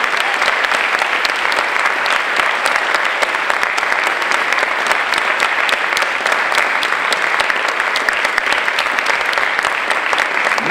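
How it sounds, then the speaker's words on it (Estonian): Loud, continuous audience applause at a film premiere gala as guests step onto the stage, a dense wash of clapping sustained evenly throughout. "Võtame neid aplausiga vastu."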